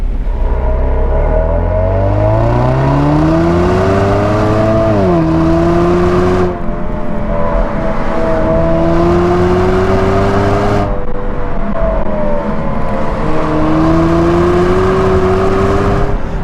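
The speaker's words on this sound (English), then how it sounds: "top's down, so obviously going to be a lot of wind noise" A 2018 Chevrolet Camaro RS with a turbo engine drives in Sport mode with the top down, its engine rising and falling in pitch through gear changes under a constant loud rush of wind noise.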